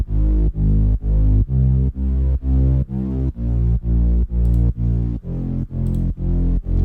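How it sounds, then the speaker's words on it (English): A distorted synth bass sits under layered synth chords in an electronic beat, pumping in a steady sidechained rhythm of about fourteen even pulses, loud and close with no voice. "And then I have a bass that's under it."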